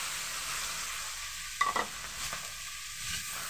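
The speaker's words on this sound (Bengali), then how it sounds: "এবার শাকটাকে আমি ভালোভাবে এর সঙ্গে মিক্স করে নেবো" Leafy greens stir-fried in a pan with oil and salt, a steady soft sizzle broken by a few sharp scraping stirs of the spatula, close up with no voices.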